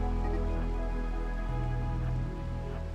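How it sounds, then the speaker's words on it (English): Steady rain in the RimWorld video game, an even hissing wash running under a sustained low musical drone with shifting tones. "It's also the stupid fucking rain, too"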